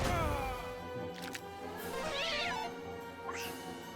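A creature in Dragon Quest 3 lets out cat-like screeching meows, a few wavering cries over a layer of game music, moderately loud.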